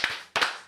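Two sharp hand claps sound close and loud, spaced about a third of a second apart, with a short ring trailing after each.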